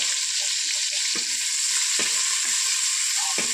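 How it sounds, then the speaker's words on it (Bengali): Raw onions sizzling in hot oil with cumin and garam masala, a steady bright hiss broken by a few soft scrapes of a stirring spoon against the pan. "পেঁয়াজগুলো একটু লাল লাল করে ভেজে নেব।"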